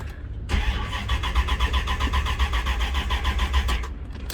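A supercharged Corvette engine catches and settles into a loud, steady, rumbling run with rapid pulsing, close up and alone for about four seconds.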